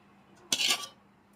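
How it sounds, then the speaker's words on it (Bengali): Milk is ladled into coffee cups for kulfi as one brief clink of the ladle against a cup, followed by a short splash of pouring, close and quiet. "তো এর মধ্যে হাতায় করে দুধটা ঢেলে দিচ্ছি প্রত্যেকটা কাপে"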